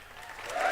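Applause breaks out from a small audience at a live show in a comic shop, starting soft and swelling into fuller clapping over a brief moment.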